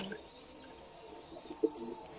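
A Jabra pigeon gives a soft, faint coo, one brief low call near the end against a quiet, hissy background.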